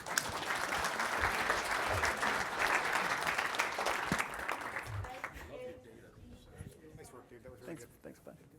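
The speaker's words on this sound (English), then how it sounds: "Round of applause for Kevin" A round of applause from the audience at an annual meeting, dense and close for about five seconds before thinning to scattered claps, with voices talking over it.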